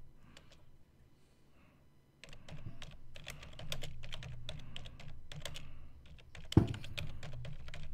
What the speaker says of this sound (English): I'm just typing a message to someone.